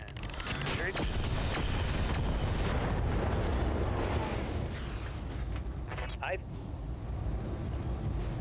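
Missile explosions in the Battletech Roguetech mech combat game, a dense roaring barrage of booms and rumbling blasts that stays loud throughout and eases slightly near the end.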